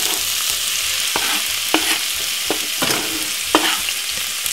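Vegetables fry in oil in a pan, a steady close sizzle with occasional stirring scrapes and soft pops, no talk.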